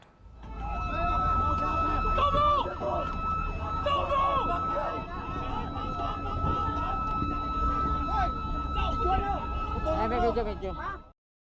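Loud wailing ship sirens blare continuously and up close, rising and falling over a rumbling engine and confused background noise, during a confrontation between Chinese and Philippine vessels at sea.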